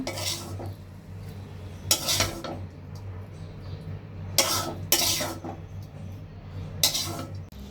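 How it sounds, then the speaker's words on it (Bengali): Metal utensil scraping and clanking against a pan while lifting out fried egg and potato pieces in a home kitchen, several bright clatters spaced apart over a steady low background hum, no talking. "ভাজিটা এখন তুলে নেব।"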